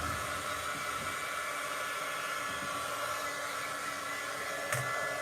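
A hair dryer blows steadily to dry fresh paint in an art studio, a constant close whooshing hum with a brief tap near the end.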